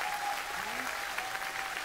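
A brief burst of steady audience applause at a folk music performance, a dense even wash of clapping from a crowd, heard at a moderate distance.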